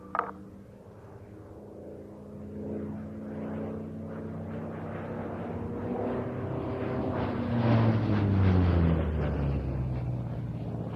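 A fighter aircraft makes its final pass at an evening flying display at IWM Duxford. The engine roar swells steadily over several seconds, its pitch sliding downward as it sweeps past, loud and alone.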